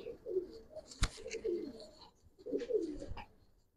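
Giribaz racer pigeons coo in two soft throaty phrases separated by a short pause, close and fairly quiet, with a single sharp click early on.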